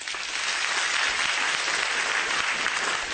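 Loud, steady audience applause during a stand-up comedy show, a dense wash of many hands clapping continuously for a few seconds with no speech over it.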